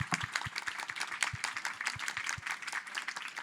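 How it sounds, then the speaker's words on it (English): An audience at a speaker session at EU Industry Days 2025 gives a short round of applause, its many light claps continuous and moderately distant in a room. "I would really like to join me in giving an applause to all of our great speakers."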